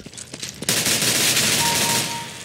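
Gunfire in a first-person shooter video game: after a brief quiet lead-in, a sudden loud, sustained burst of shooting fills the rest of the moment, dense and close, fading slightly toward the end.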